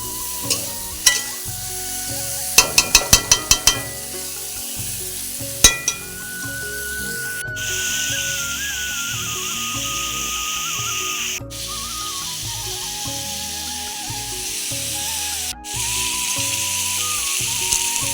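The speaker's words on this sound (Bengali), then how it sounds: "ভালো করে নাড়াচাড়া করে দিচ্ছি" Pointed gourd and potatoes frying with garam masala and spices, stirred in a pan; loud continuous sizzle with a burst of sharp utensil clinks early on and occasional scraping strokes throughout.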